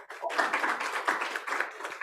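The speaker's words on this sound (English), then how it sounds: "give another big round of applause to Eric" An audience at a youth solutions dialogue applauding, a brief burst of dense clapping heard from within the room, fairly quiet and steady for about two seconds.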